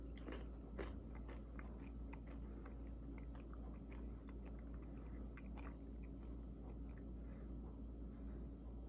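Someone crunches and chews a Manchurian scorpion with its stinger removed, faint close bites and wet chewing repeating irregularly over a low steady background hum, no talking.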